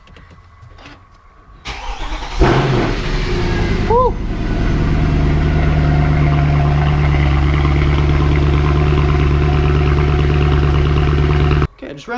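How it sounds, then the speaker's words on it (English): A Mercedes C63 AMG engine cranks and catches, then settles into a steady low idle that runs on; a person briefly cheers as it starts. "we'll go ahead and start the car"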